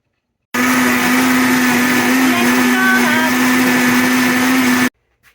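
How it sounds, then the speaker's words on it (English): A kitchen blender purees soaked soybeans with about a liter of water for soy milk. Its loud, steady motor whine runs for roughly four seconds, then cuts off abruptly to silence. "put them into my blender, and add, I think, 1 liter of water and blend them up"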